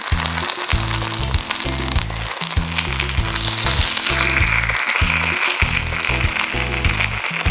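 Waina batter fries in a hot pan right after being flipped, giving a steady, close sizzle with crackling throughout, over faint rhythmic low background thumps.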